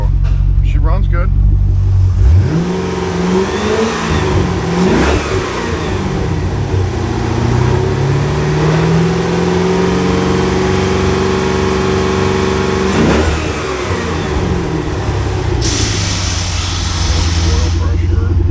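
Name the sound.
2005 Chevrolet Corvette C6 LS2 engine running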